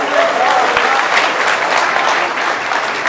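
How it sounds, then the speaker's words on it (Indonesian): A large crowd at the inauguration of election supervisors for the Cilincing district of North Jakarta applauds in dense, sustained clapping, with a faint voice briefly audible underneath. "Berarti Anda semua adalah orang terpilih. Tepuk tangan dong."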